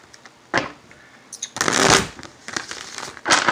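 A deck of tarot cards is shuffled close up in several bursts, crisp riffling flutters with short pauses between them and the longest, loudest run in the middle.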